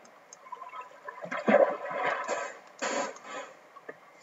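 Water in the game Minecraft flows and gurgles in uneven swells, moderately close, with soft splashy bursts and quieter gaps between them.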